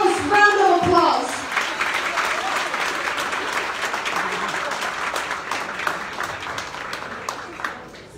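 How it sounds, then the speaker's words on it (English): An audience at an award ceremony bursts into loud, sustained applause, many hands clapping together in a dense wash that slowly tapers off, after a brief voice at the very start. "Let us all give her an enormous round of applause."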